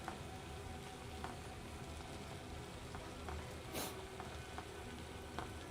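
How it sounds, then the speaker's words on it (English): Canned tomatoes sauté in a pan with a faint, steady sizzling hiss and a few soft pops, heard alone throughout. "I'm going to saute this"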